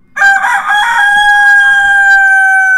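A single rooster crows loudly at very close range, one long, strained, sustained call with no talking over it.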